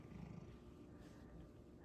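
Low, steady purring rumble from a nearby cat, continuous and soft, with no talking.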